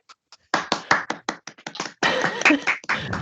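Clapping played at the close of an online presentation: scattered single claps at first, then a burst of fast, close hand claps that stops and starts again.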